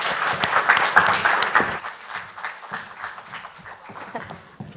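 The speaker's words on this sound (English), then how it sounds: "please let's give a round of applause to Lorna Ruto and Mutoba Ngoma as they take the stage" A conference audience applauds as two speakers take the stage, a loud burst of many hands clapping that fades into thinner, scattered claps.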